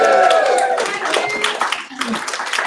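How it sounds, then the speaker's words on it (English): An audience claps and cheers for a guest speaker at a digital marketing hangout, a loud burst of mixed clapping and voices that fades and then picks up again. "can everyone give Rand a cheer?"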